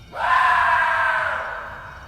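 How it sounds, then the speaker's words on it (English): A single loud, drawn-out scream rises abruptly and holds for over a second before trailing off, raw and strained. "a guttural scream echoed through the trees"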